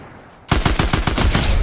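Assault rifle fire in an online shooter game, a loud, close burst of about a dozen rapid shots in steady succession after a brief quiet moment.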